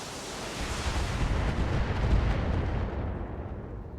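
BattleTech mech weapon fire in a video game: a heavy, sustained rumbling blast that swells and then tails off, loud and booming, with no talk over it.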